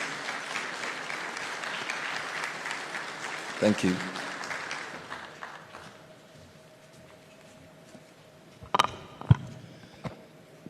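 An audience at the 2025 Accra Health Sovereignty Summit applauds to welcome a speaker, several seconds of steady clapping that fades out, followed by a brief spoken thanks and a few sharp knocks.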